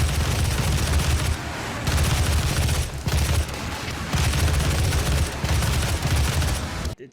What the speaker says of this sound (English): Looks like we have a reveal of the assault rifle upgrade. I don't like the sound of it that much, honestly.